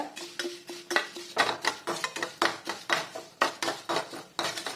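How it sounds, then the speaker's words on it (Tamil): Black gram roasting in oil in a pan, stirred with a metal spoon that scrapes and clinks against the pan in a steady, repeated rhythm, close and fairly loud. "கருப்புள்ள வந்து கொஞ்சம் போட்டு வறுத்து எடுத்துக்கலாம்"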